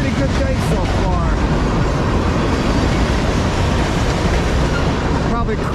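A CSX M403 manifest freight train, led by locomotive 3201, rolls past loud and close at Piscataway, New Jersey, in a continuous heavy roar of wheels and cars, with some talk audible over it.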